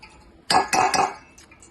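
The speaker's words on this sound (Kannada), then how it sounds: "ಈ ಮಿಶ್ರಣವನ್ನು ಒಂದು ಜಾರಡಿ ತಗೊಂಡು ಒಂದು ಪಾತ್ರೆಯಲ್ಲಿ ಜಾಡಿಸಿಕೊಳ್ಳಿ" A sieve of spiced flour mixture is shaken and tapped over a metal vessel, producing three loud, close metallic knocks in quick succession followed by faint rattling.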